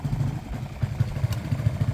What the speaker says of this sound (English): it does sound a little bit iffy on idle there